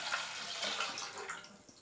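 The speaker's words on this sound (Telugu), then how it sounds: "ముందుగా స్టవ్ మీద ఒక బౌల్ పెట్టుకొని పాలని పోసుకోవాలి" Milk pours from a container into a bowl set on a kitchen stove for semiya payasam, a soft, steady liquid splash that is quiet and close with no talking.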